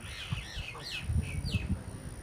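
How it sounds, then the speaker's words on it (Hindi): Birds gather over a rice paddy field, with several quick high chirps and short tweets rising and falling in close succession over a soft outdoor background. "परिंदे जमा हो रहे हैं"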